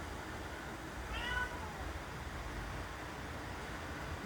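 A single faint, short cat meow rises briefly above steady, hissing background noise.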